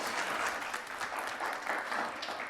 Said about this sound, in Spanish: Recibamos con un gran aplauso al ministro Óscar Liscano Arango.